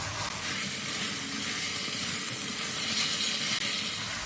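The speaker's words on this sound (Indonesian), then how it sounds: "dendengnya atau dagingnya udah digoreng setengah kuning tadi bisa dimasukin" Half-fried beef hits a hot pan with green chili and sizzles loudly and steadily, a dense close frying hiss without any voices.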